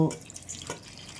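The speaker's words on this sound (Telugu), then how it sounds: "కొంచెం కొంచెం వాటర్ వేసుకుంటూ" A brief splash and trickle of water being poured into batter, short and close, with a soft wet slosh.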